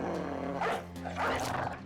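A dog in the video game Battle Brothers growls and barks in a few rough bursts, close and fairly loud, over a steady game background.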